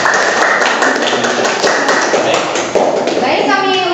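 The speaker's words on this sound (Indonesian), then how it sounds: "Berikan aplaus untuk kelompok 2" A classroom group applauds a student group's presentation in a university biology teacher-training session, a dense, continuous patter of clapping hands with scattered sharper taps and voices mixed in underneath.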